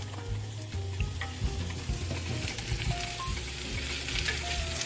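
Sausage browns in a frying pan, giving a steady, close sizzle and crackle with occasional stirring scrapes and no talk.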